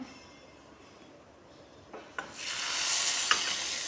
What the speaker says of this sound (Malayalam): ഇനി നമുക്ക് ഈ മോര് കാച്ചിയതിലേക്ക് ഒഴിച്ചു കൊടുക്കാവുന്നതാണ്